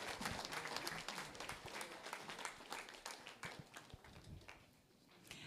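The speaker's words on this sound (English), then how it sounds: "Let's give them all a round of applause." Audience applause at an evening city council candidates' forum, a steady wash of many hands clapping close by, with scattered individual claps standing out and the clapping thinning toward the end.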